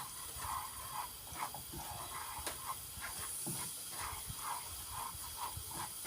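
Butter, corn flour and cheese sauté in a pan for Turkish mıhlama, giving a faint, steady hiss broken by soft, rhythmic stirring scrapes.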